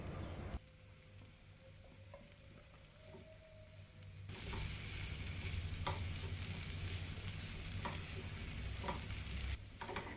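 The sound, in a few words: mixing boiled potatoes with spices in a pan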